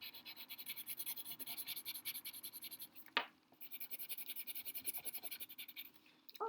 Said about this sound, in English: I'm just going to completely shade it in because this is my darkest value